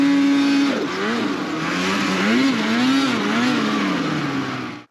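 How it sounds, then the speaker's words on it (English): A snowmobile engine is blipped on the throttle to clear out snow, its loud close revving rising and falling in a couple of quick surges before cutting off. "hit your throttle lever a couple times like this to clear out any snow"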